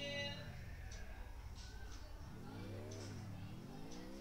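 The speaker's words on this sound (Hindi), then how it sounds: "ये गाड़ी आवाज करती है लेकिन बहुत ज्यादा।" A car engine in the Free Fire video game hums faintly at low volume, then rises and falls in pitch as it revs over a few seconds.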